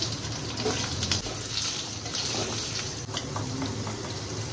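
Two potatoes sizzle in hot oil over a spiced tempering with ginger, a steady close, loud hiss and crackle that continues throughout without talk.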